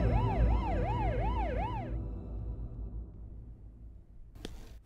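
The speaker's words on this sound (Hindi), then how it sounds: "एम्बुलेंस आ गई है" An ambulance siren wails in a loud, rising and falling cycle for about two seconds, then cuts off, leaving low road rumble and a brief noisy burst near the end.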